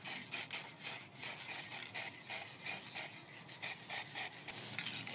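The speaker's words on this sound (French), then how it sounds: "Le poncer." Hand sanding of a frozen part on a Daewoo car, rhythmic rasping strokes repeating steadily and close up, with no talk.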